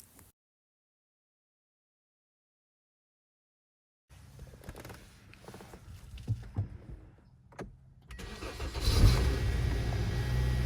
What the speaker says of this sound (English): Now that the car has cranked up, leave the clamps attached to the car